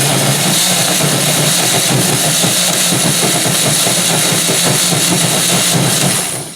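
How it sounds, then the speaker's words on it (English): A blender whirs steadily as it purees sea moss into gel, a loud, dense, continuous motor roar held for several seconds before it cuts off at the end. "go ahead and put that lid on that blender. And I begin blending."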